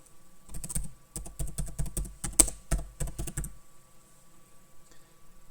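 Rapid, close keystrokes on a computer keyboard for a few seconds, a steady clatter of typing that stops, leaving a quiet room hum.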